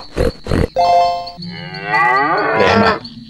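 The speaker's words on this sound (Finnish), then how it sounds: "Lehmä." A cow moos in a sound-guessing game, one long loud call with a rising and falling tone that comes right after a few short thumps, with no talk.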